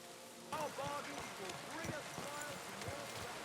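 Rain patters steadily in Kingdom Come: Deliverance 2, a constant wash of drops heard beneath murmuring character voices.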